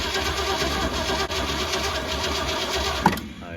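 A 1976 Jeep J10 pickup engine, left sitting for years and running off a jump box, cranks over steadily in a continuous churning drone, ending with a brief louder catch near the end.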